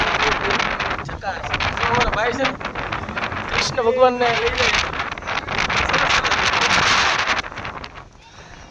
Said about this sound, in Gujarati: પવન ગજબ છે